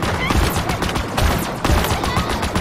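Rapid automatic rifle fire from a Commando in Halo Infinite's campaign, loud and close, rattling in repeated bursts across the moment with dense game ambience behind.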